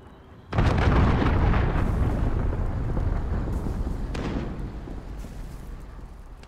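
Massive missile blasts in a Call of Duty: Modern Warfare online match, one heavy boom hitting suddenly and then a long rumbling roar that slowly fades with scattered crackles, loud and close.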